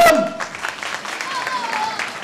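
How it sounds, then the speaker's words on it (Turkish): Guests at a wedding ceremony clap together, a moderate scattered burst of applause in a hall that follows a short spoken line and continues under faint voices. "Bir alkışlayalım."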